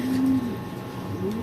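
Racing pigeons cooing close by, a short low throaty coo followed by a softer second call over faint background noise.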